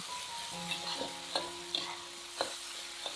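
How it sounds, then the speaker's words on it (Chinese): Steady hot-oil sizzle as oyster sauce and garlic stir-fry, with a spatula scraping and clanking against a wok every half second or so, close and continuous. "放点蚝油，用热油爆炒，把蚝油的香味激发出来。"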